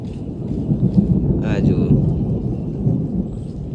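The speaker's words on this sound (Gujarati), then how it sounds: "વીજળી હજુ રહી નથી કારણ કે બહુ ફ્લેશ થાય છે" Deep thunder rumbles low and steady throughout, a long rolling roar without distinct cracks, during a storm with heavy rain and frequent lightning flashes.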